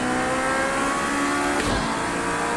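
Car engine revving in the racing video game Project Cars 2, a steady loud drone with a rising rev and brief surge near the end, no talk.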